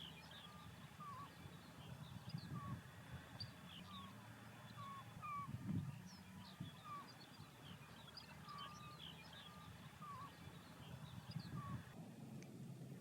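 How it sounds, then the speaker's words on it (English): Greater white-fronted geese call on Alaskan tundra at Utqiagvik: many faint, distant honking and yelping notes scattered through the scene, over a low rumble of wind and background noise. "Greater white-fronted geese were the most numerous goose species."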